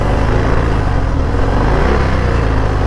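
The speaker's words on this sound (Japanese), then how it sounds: "意外とハーレーっぽいダラララララって音はしますね" A Harley-Davidson Fat Bob with an 1800cc engine rumbles steadily while being ridden, a dense, loud, continuous low drone mixed with wind rush.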